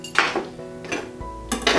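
Metal cookware gets handled in a kitchen while a butternut squash and chickpea curry is made: a large stock pot or saucepan clanks and clinks in three short bursts separated by brief pauses, close and fairly loud.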